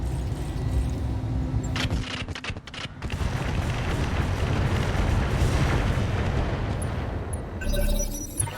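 Heavy mech weapons pound a Hephaestus in the Roguetech game, a dense, continuous barrage of deep booms and explosive bursts rolling for several seconds with a sharp crack near the start and a brighter burst at the end.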